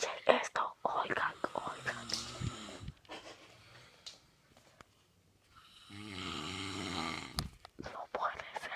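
Someone snores loudly and roughly, with long rasping breaths close to the microphone, alternating with excited whispered talk.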